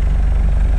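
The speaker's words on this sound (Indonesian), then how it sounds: "ini mesin hidup, knalpot ini masih ada keringet" 2005 Honda Accord CM5 sedan engine idling, a steady low rumbling drone heard up close for a brief moment.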